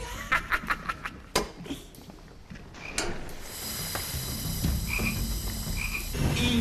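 A toad croaks in a cartoon scene from a fairy-tale episode, giving a series of quick rhythmic croaks near the mic, then a louder stretch with background music and effects.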